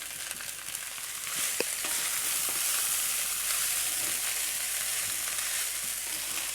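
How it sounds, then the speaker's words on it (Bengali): Leftover rice frying in a pan, a loud continuous sizzle with occasional scraping stirs and a sharp clack from the spatula, close up, no voices. "অল্প অল্প করে ভাতটা মিশিয়ে দিই আর নেড়ে দিই"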